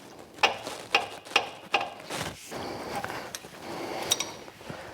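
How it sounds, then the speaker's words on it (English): A socket ratchet turns an oil filter on a vehicle, giving a series of close, crisp clicking ratchet strokes in a regular rhythm, followed by a few scraping mechanical movements. "we can use a socket on this because we'll get a bit of grip"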